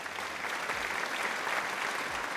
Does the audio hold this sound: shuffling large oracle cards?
no